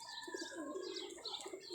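Lakha pigeons coo softly in a loft, faint rolling burbling calls overlapping one another at a distance with no one speaking.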